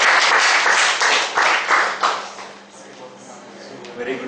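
An audience at a speakers forum meeting applauding to welcome a speaker, a short round of clapping that fades out within a couple of seconds, followed by quiet room tone and faint voices.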